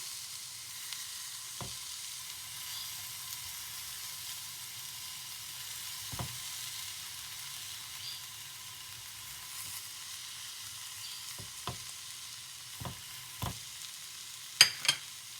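Shrimp stir-fried in a pan with fragrant aromatics, a soft steady sizzle with occasional scraping stirs and clinks, close and quiet with no talk.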